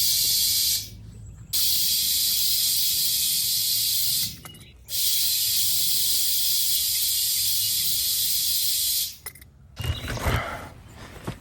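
Compressed air hisses into a Mahindra tractor tire at the valve in three long, steady bursts separated by brief gaps, followed by a short stretch of clattering handling noise.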